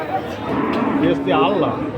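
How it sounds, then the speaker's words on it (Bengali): A large Friesian bull moos twice at a busy outdoor cattle market ahead of Eid, loud and close, with faint crowd chatter around it. "দেখতে পেলেন বড় একটি ফিজিয়ান সার গরু"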